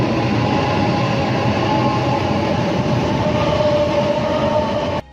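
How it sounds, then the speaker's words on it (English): ICE intercity express train of Deutsche Bahn running on rails: a loud, steady rumbling roar with a faint tonal whine, constant throughout and then cutting off abruptly near the end. "The ICEV is the granddaddy of all intercity express trains operating in the Deutsche Bahn"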